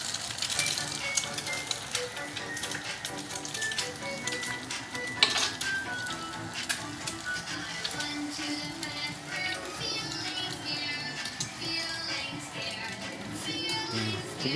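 An egg frying in cooking oil, crackling and sizzling steadily throughout with scraping and clinking of a utensil against the pan, close and continuous, with occasional voices talking over it.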